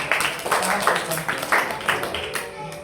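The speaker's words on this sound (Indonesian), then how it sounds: "Tepuk tangan untuk teman-teman." A group claps together in a continuous patter of applause at a storytelling sharing session with students at an Islamic boarding school, fairly loud and steady with a few louder bursts and faint voices underneath.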